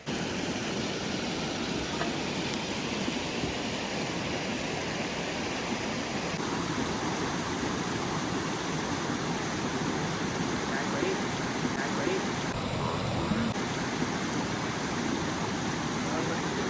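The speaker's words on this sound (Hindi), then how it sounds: "गाइस पहले झरने में पहुंच गए हैं" A small waterfall on the Kasol to Kheerganga trek gives a steady, close rushing roar of falling water that holds an even level throughout, with no break or change.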